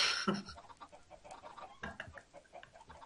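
A chicken in Minecraft clucks in a quick series of short, close calls, fairly quiet, with no talking.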